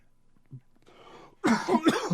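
A brief throat noise, then a harsh, loud cough burst close to the microphone, repeated in rapid succession.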